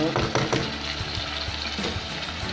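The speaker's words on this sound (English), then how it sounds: "then I am going to add the sliced turnips straight away." Sliced turnips, washed and peeled, hit a hot pan for a stir-fry and set off a steady, close sizzle of frying with faint stirring scrapes, and no voice over it.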